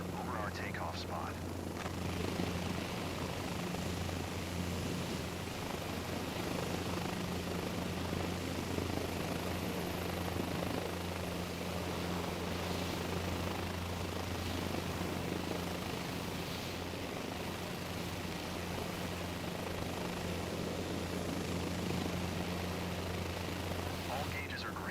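Helicopter hovering over a takeoff spot in Microsoft Flight Simulator 2024, a steady loud rotor and engine drone with a constant low hum that holds unchanged throughout, alone without talk.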